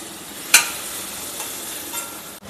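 A chilli powder mixture is being sautéed in a pan. The sound is a steady soft sizzle with a sharp scrape of stirring near the start and a few faint clinks.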